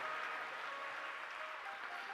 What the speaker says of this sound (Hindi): तालियां को ज्यादा बजा दी हैं